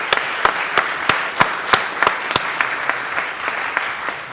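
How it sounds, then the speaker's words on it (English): A symposium audience applauds after the final panel on future warfare: a steady, moderately close round of clapping with several sharp, distinct claps standing out, fading slightly toward the end. "A warm round of applause is in place."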